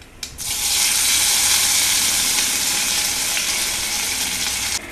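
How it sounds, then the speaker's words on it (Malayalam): Curry leaves hit hot coconut oil with mustard seeds and set off a sudden loud hiss that holds as a steady, close sizzle for several seconds, then cuts off. "വേപ്പില ഇടണം."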